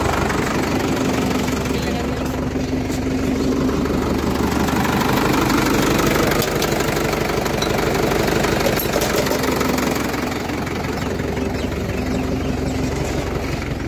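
A Sonalika tractor engine runs steadily at a loud idle with a knocking, vibrating rumble that continues throughout.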